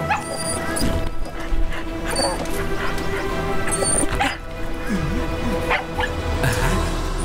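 A cartoon detective dog barks and yips in a series of short, excited bursts, set against busy animated background sounds and effects.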